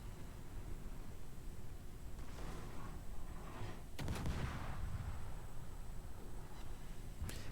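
Warship broadside fire in a naval video game, with armor-piercing shells against cruisers: a few booming gun blasts sound over a quiet, hissy background, the sharpest near the middle and one more at the end.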